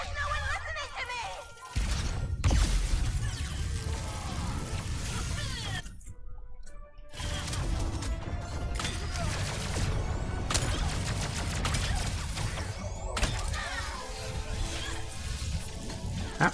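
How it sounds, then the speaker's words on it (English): Explosions burst repeatedly in Ratchet & Clank: Rift Apart, crashing and crackling amid busy game effects for most of the stretch, loud and chaotic, with a brief dropout partway through. "Everything's exploding."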